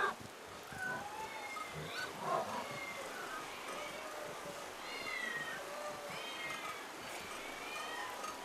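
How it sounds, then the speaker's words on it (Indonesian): Several cats meow repeatedly in the temple town of Bubastis, in Egypt, with overlapping calls of moderate loudness over a soft background hiss. "Kenapa ada banyak kucing di sini?"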